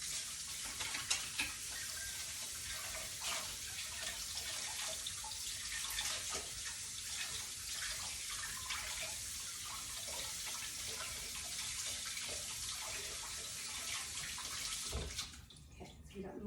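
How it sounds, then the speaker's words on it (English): Hands being rinsed under a running tap after kneading homemade bread dough, a steady close hiss of water with small splashing shifts that stops abruptly near the end. "Let me wash my hands."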